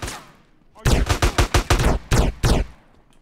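Rapid bursts of gunfire in Grand Theft Auto: San Andreas, about nine loud sharp shots in an uneven string after a fading earlier report, close and dominant.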